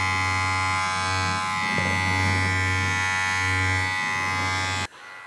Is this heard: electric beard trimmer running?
yes